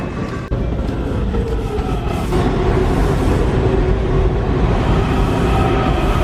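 A Washington DC metro train rumbles loudly through the Greenbelt station, a steady, heavy roar of wheels and motors with a sharp clack near the start.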